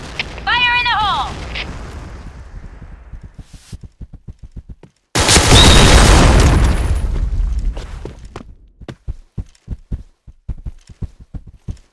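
Grenade explosion in the shooter game Point Blank, one loud, sustained blast that erupts suddenly and fades over a couple of seconds, set between quick rhythmic gunshot-like clicks and brief in-game voice calls.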